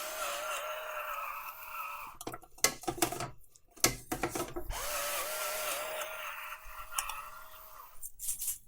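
Pepper is cranked from a grinder over two whole oiled chickens, giving ratcheting, scratchy grinding bursts in the middle and again near the end, set against a steady tonal background hum.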